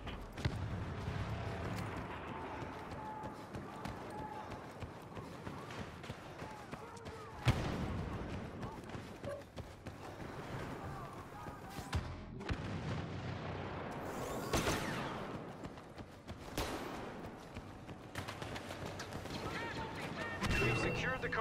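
Gunfire and explosive booms in a Star Wars Battlefront battle, a dense continuous barrage of shots and blasts with sharper bangs scattered throughout, voices talking over the combat.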